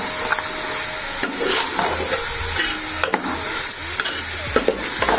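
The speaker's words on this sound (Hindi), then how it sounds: "अब हम इसको 5 से 10 मिनट भून लेंगे क्योंकि हमारा मसाला भी भून जाएगा और प्याज भी गल जाएगा।" Onion and spices frying in a pan for bhindi masala, with a loud close sizzle and repeated scraping stirs throughout.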